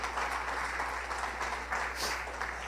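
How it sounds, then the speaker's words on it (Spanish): Church congregation giving a strong round of applause to God during a worship service, a steady, moderately distant wash of clapping with slight swells, over a low hum. "puedes darle un fuerte aplauso a nuestro Dios"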